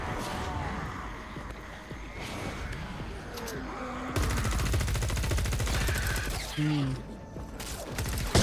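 Rapid gunfire from a weapon in Fortnite Save the World, a dense burst of repeated shots that grows louder and harsher partway through, mixed with game effects and no talking.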